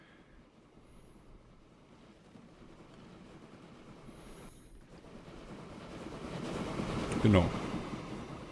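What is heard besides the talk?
train passing through in video game Train Fever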